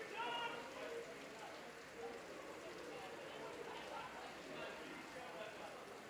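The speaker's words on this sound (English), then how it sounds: "that rain is so heavy" Heavy rain pours down during a live football match, a steady, faint wash of hiss and patter with muffled voices in the background.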